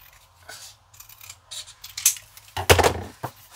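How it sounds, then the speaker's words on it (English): Scissors snip through card in a few quick, crisp cuts, a couple of faint clicks first, then a louder cluster of snips near the end, close up and without speech. "So I'll just cut a smidge off of that."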